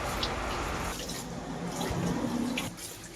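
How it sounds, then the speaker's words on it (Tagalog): Pechay greens swished and rinsed in a basin of water for shrimp cooking: close, continuous splashing and dripping with small sloshes, no talk. "Pagkatapos natin maputol, mga idol, hugasan muna natin saglit."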